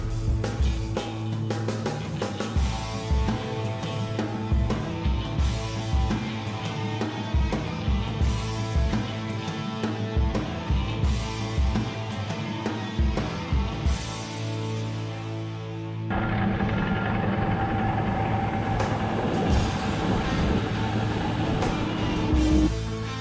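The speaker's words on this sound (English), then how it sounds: "jump in the Volvo 290 and see if we can't move some dirt" A Volvo 290 excavator's diesel engine runs steadily on a cold morning, a loud continuous rumble with strong harmonic drone that steps up to a heavier, busier load about two-thirds of the way through.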